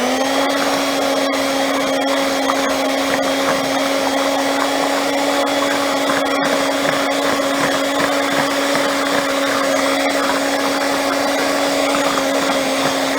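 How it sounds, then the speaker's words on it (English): Electric hand mixer whirring steadily through chocolate cake batter, a constant motor hum with a high whine, loud and close and running continuously with no talking. "I just chose, since this was so simple, just to do it with a hand mixer."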